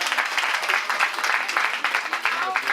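Audience applause and cheering from parents and girls at an empowerment event in West Point, a dense sustained roar of clapping and voices throughout.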